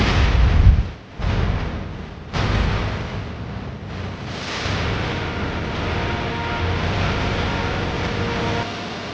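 Bomb blasts in the Melon Sandbox video game, a heavy boom near the start followed by a few more deep thuds and then a long rumbling roar of continued explosions, loud and close, with no talking over them.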